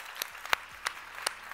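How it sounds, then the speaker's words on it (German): A handful of sharp, separate hand claps ring out sparsely in a quiet hall at an award ceremony for the Deep Tech Award 2022 winner, four distinct smacks spaced irregularly rather than full applause. "Einen großen Applaus"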